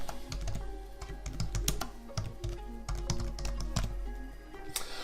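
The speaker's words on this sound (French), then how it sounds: "je peux le taper directement" Steady typing on a computer keyboard, a run of close, quick key clicks with uneven rhythm and no voices.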